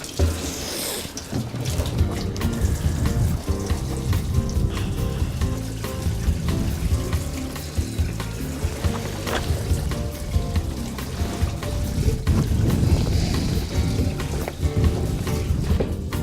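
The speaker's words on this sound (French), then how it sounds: "Un 5 gallons de gaz. Donc, on va généreusement induire notre mélange d'essence." Gasoline glugs and splashes steadily as it is poured from a 5-gallon can into a fuel mixture, a continuous liquid rush close up with no talking.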